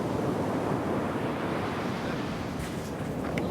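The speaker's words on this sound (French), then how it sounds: "des vagues assez imprévisibles, difficiles à lire" Ocean surf breaks on a Siberian shore, a continuous roar of waves mixed with wind buffeting the microphone, loud and close throughout.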